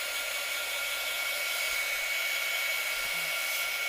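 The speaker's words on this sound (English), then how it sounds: "I'm going to use my heating gun just to kind of speed up the process a little bit" A heat gun blowing to speed the drying of a Halloween treat-can craft: a steady, continuous airy roar with a constant high whine, close and unchanging throughout, with no talking.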